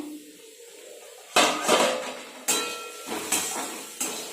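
A spoon scrapes and clanks against a cooking pot as Maggi noodles are stirred, giving about five sharp metallic knocks with short scraping tails after a quiet start.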